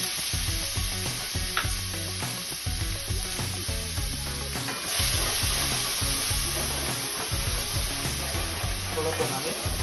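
Blended onion paste sizzles and fries in a pan for soya chaap masala, a continuous dense crackle with stirring clatter throughout, close and steady.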